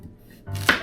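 A kitchen knife cuts through carrots on a board for a stew, making a single crisp chop near the end of a very brief moment, close and distinct.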